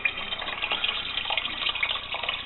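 Water runs steadily from a tap into a plastic beer fermenter, a continuous close splashing fill topping up a pale ale batch, with no talk over it.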